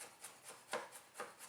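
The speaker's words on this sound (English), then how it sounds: "I'm kind of just rolling my knife." Knife blade rocking and rolling on a cutting board while mincing chicken shawarma marinade ingredients, a steady series of soft scraping taps about every quarter second, close and clear with no talking.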